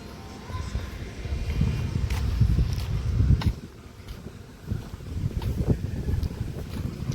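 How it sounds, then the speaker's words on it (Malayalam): Gusty wind at Naranipuzha bridge, where a coconut-load truck has stopped, buffets loudly in rumbling surges that ease briefly midway before picking up again. "നല്ല കാറ്റുണ്ട് കേട്ടോ"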